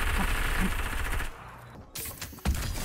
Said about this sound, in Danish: der kunne jeg høre den skyde